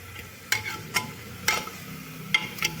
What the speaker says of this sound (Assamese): এনেকৈ অলপ দেৰি মই ফ্ৰাই কৰি ল'ম